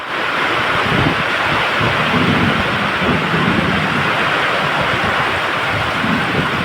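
Heavy thunderstorm rain roars steadily throughout on the Chennai Central railway line during a train journey, a dense broadband wash with deep low rumbling underneath, close and loud with no voices.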